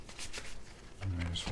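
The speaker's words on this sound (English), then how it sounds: "So I'm going to ask for 3 cards for collective energies right now." Tarot cards are shuffled and drawn from a deck, giving soft riffling and papery slides up close that end in a fuller flutter.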